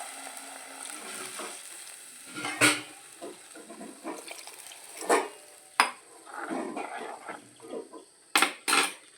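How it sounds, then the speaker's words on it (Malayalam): Pot of sambar simmering on the stove, with a soft continuous bubbling and sizzle, broken by a few sharper clatters and splashes near the pot. "ഇത് നന്നായിട്ട് തിളക്കട്ടെ"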